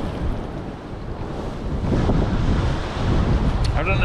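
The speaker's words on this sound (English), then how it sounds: "The waves are hitting the breakwater now and it's splashing up a little bit." Sea waves surging and splashing against the Brixham harbour breakwater in South Devon, a steady broadband wash with wind buffeting the microphone, rising slightly midway, and some faint talk in the background.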